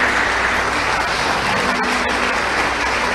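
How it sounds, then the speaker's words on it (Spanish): Church congregation applauding loudly and steadily throughout, a dense continuous wash of clapping with no speech. "Den un aplauso fuerte al Señor."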